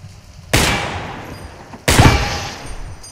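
Two sharp gunshots in the video game Receiver 2, the first at about half a second and the second near two seconds, each loud and close with a long decaying tail over quiet room tone.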